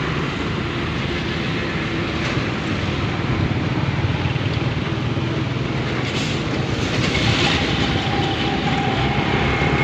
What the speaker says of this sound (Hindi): कितना अच्छा लग रहा है, बड़ी बड़ी सी ट्रेन है।